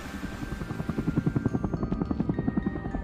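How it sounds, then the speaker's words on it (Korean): A helicopter sound effect in a horror audio drama gives a close, rhythmic rotor thumping that pulses steadily and grows stronger, with no talk. "시끄럽게 울려 퍼지는 헬리콥터 소리에 박사는 간신히 대답했다"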